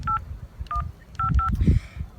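A phone keypad beeps out a short series of DTMF dialing tones, four or five quick tones spaced unevenly, followed by faint low rumble and shuffling nearby.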